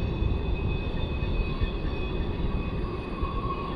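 Train wheels rumble and clatter steadily on steel rails at the Tehachapi Loop with a constant low roar, a thin metallic whine running above it.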